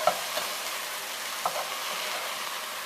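Okra with lime juice frying in a pan as it is stirred, a steady bright sizzle with a few soft clicks of the utensil scraping the pan, close and without talk.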